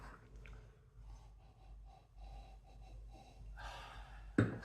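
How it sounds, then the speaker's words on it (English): Several short nasal sniffs of a hazy, unfiltered amber drink close to the microphone, breathing in quick bursts over a low steady hum, ending with a sharper louder puff. "Let's have a sniff."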